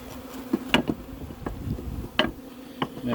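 Bees buzzing around a hive, individual insects zipping past close with sharp passes over a soft continuous hum.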